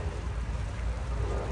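Steady rain pours down outdoors beside a car with its hood open, a dense continuous hiss of drops with low rumbling underneath, fairly loud and unbroken, with no voices.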